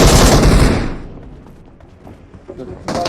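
Gunfire in the video game PUBG opens with a loud, dense burst of rapid shots that fades out, then a few scattered sharper reports follow, with a voice talking over the game.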